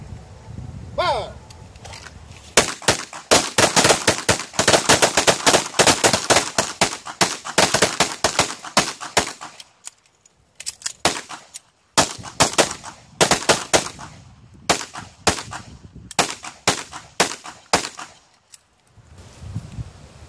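Rapid pistol gunfire on an outdoor training range, loud sharp shots in fast strings and bursts separated by short pauses, with a brief voice at the start.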